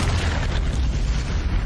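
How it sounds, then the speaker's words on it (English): A bridge blows up in the video game Sniper Elite 4, a loud, heavy rumbling explosion that stays dense and roaring through the whole clip without any voices. "And that's gonna destroy the bridge."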